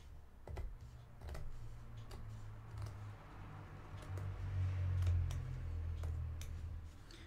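Sewing scissors cut through leather with a series of quiet, crisp snips and clicks at an irregular pace, close to the microphone, against a soft low background.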